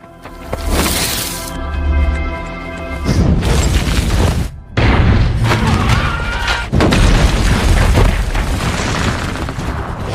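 A loud, deep grenade blast from the film 13 Hours, with booming explosions and crashing debris that roll on in several heavy waves.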